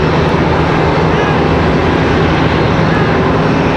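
An American Airlines Airbus A321 arriving from Chicago at Charlotte Douglas International Airport, heard as a loud, steady, broadband engine roar that holds without a break throughout.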